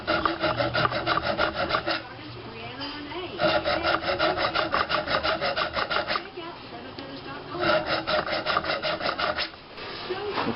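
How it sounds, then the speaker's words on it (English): A square file cuts triple notches with close, loud, rhythmic rasping strokes in three quick runs, separated by brief pauses. "triple notches are cut with my square file"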